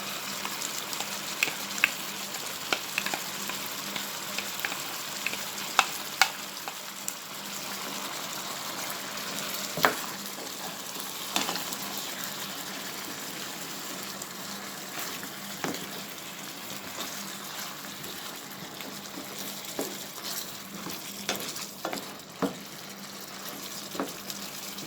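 Seasoning fries in a pot for a Jamaican curried chicken, with a continuous sizzle and crackle broken by scattered scrapes and clinks of stirring, close and moderately loud throughout.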